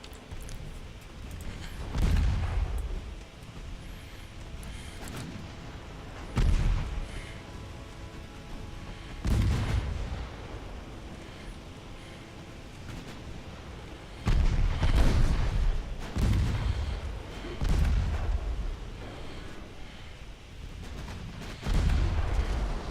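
Heavy naval gun salvos boom in a warship battle game, about six loud deep blasts spaced every few seconds, each rolling off into a rumbling tail over steady low ambience.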